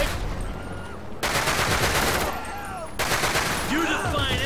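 Bursts of automatic gunfire from the video game GTA 5, loud rapid volleys coming in two sustained stretches, with game sounds and brief voice-like tones mixed in.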